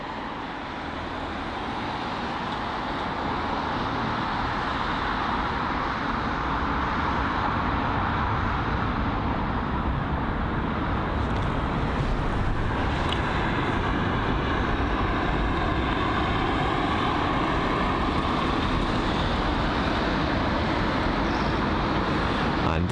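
An Aer Lingus Airbus A320 rolls off the runway at London Heathrow after landing, a steady distant jet rumble and whine that swells slightly midway, with no voices over it.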